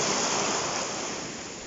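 Mediterranean Sea surf washes steadily as a dense, even hiss of breaking waves, close and continuous, slowly easing in level without any voices.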